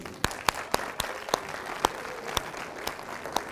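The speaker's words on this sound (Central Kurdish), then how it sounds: "بە چەپڵەیەک باندوویتان دەرکەن" An audience at a talk gives sparse, scattered handclaps, a handful of sharp separate claps spread across a few seconds rather than a full, dense ovation.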